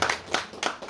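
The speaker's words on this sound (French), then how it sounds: "On peut les applaudir encore une fois." A few brief claps from an audience at a literary conference for young authors, a short sparse burst of hand claps, moderately faint.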